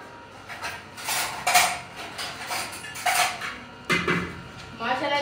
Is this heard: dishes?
yes